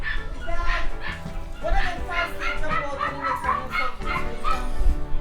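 A dog whimpers and yips in short repeated bursts amid a busy mix of voices and background noise, moderately close and steady throughout.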